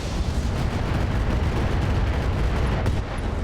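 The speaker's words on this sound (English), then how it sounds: "I want to be able to fire on the Thumper turret over here" Heavy weapons fire pounds a Thumper artillery turret in the game RogueTech as a dense, unbroken roar of blasts and rumble, loud and sustained for the full length.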